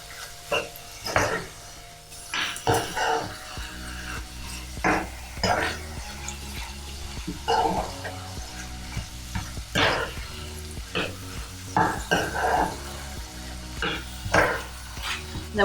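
Asian lettuce wrap filling being stirred through sauce in a hot pan: a continuous sizzle broken by repeated scraping and clacking strokes of a spatula against the pan, close and steady, without talk.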